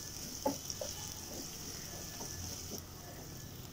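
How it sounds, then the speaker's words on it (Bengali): Onions and chilies frying lightly in a little oil for a breakfast of noodles give a faint, steady sizzle, with a few soft clicks and stirring touches scattered through it. "এখন পেঁয়াজ মরিচ হালকা করে ভেজে নিচ্ছি"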